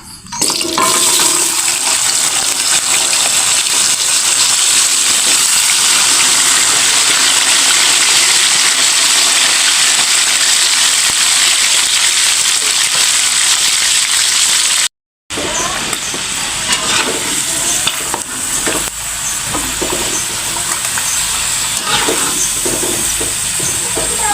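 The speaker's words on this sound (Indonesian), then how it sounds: "Sekarang goreng jengkol." Jengkol frying in hot oil in a pan for green chili sambal, a loud continuous hiss and sizzle that cuts out briefly midway and resumes slightly quieter with crackling pops.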